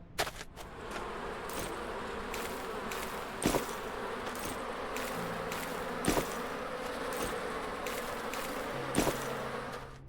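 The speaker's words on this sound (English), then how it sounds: "So there's some bees there. There's also some bees up here." Bees buzz in a continuous low drone inside the medieval fantasy video game Cozy Keep, steady and moderately loud, with a few sharp clicks popping through at intervals.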